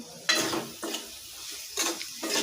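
Tomatoes tipped into hot oil in a pan hiss and sizzle in short bursts, with stirring scrapes between them, fairly quiet and close, no voices.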